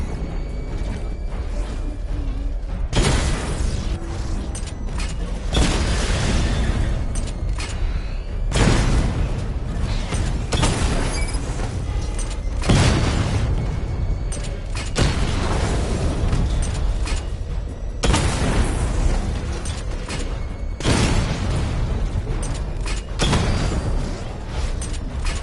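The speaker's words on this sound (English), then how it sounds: "Charge up missile barrage to level 2 and destroy 4 active targets to complete diagnostic test." Missile barrage explosions from the Batman Arkham Knight video game, set off during a diagnostic test, come as repeated heavy booming bursts every few seconds, each a loud wideband blast over a continuous mechanical rumble.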